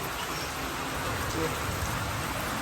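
Steady rain hissing down, a dense even wash of noise with faint low rumbles underneath and no clear voices.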